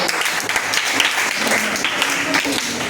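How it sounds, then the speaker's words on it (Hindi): A school audience at a quiz competition for classes 6 to 8 breaks into dense, continuous applause that holds at an even, loud level throughout, with voices faintly audible beneath the clapping. "ताली बजाइए"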